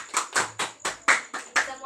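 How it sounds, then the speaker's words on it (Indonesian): Schoolchildren in a classroom clap their hands for a classmate, about seven sharp, evenly spaced claps in unison over two seconds, close and clear. "tepuk tangan untuk Aini"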